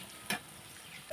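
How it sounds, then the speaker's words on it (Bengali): Cumin seeds and panch phoron sizzle softly in hot oil in a pan, a faint steady frying hiss broken by a sharp stirring clink. "এখন দিয়ে দিলাম আমি কাঁচা জিরা, গোটাল জিরা, দিয়ে দিলাম পাঁচফোড়ন। সবগুলো আমি এখন 1 মিনিটের মতন ভালোভাবে ভেজে নেব।"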